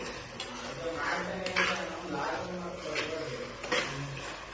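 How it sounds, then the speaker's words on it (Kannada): Ginger garlic paste frying in a clay pot while being stirred for egg noodles and rice, with a soft sizzle under repeated scraping and clinking strokes of the spoon, and voices murmuring in the background. "ಶುಂಠಿ ಬೆಳ್ಳುಳ್ಳಿ ಪೇಸ್ಟ್ ಹಾಕಿದೀವಿ. ಫ್ರೈ ಆಗ್ತಾ ಇದೆ."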